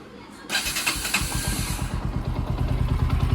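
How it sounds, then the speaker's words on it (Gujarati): A motorcycle engine cranks and catches, then settles into a loud, steady, throbbing idle close by. "ચાલુ કરીને પણ તમને બતાવું."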